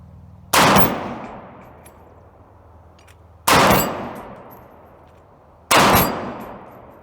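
Three loud gunshots hit a steel lollipop spinner target with an 8-inch plate on an outdoor range, each a sharp blast with a ringing metallic clang that fades slowly, spaced about three and two seconds apart with no talking.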